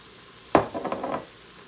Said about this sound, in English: we're just gonna cook up all this veg